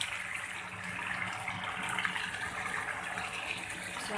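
Water is poured into a spoonful of cornflour and stirred in a home kitchen while a restaurant-style chicken jalfrezi is being made, giving a steady, soft wash of liquid sound with no talk.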